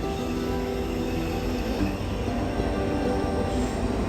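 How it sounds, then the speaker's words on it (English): A freight train carrying car haulers rolls past on the rails, a loud, steady rumble and metallic wheel noise filling the whole stretch without a break. "Each one of these train cars has got cars that you drive on the road"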